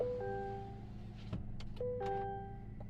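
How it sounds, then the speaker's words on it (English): A Chevy's power window motor hums steadily as the glass rolls up, a quiet electric whine inside a parked car with faint clicks near the end. "Roll the window up."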